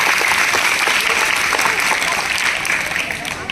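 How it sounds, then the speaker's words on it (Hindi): A crowd at a school prize-giving ceremony for girls gives the principal loud, sustained applause, a dense continuous clapping that holds steady for the whole stretch. "एक बार प्राचार्य महोदय के लिए जोरदार तालियां"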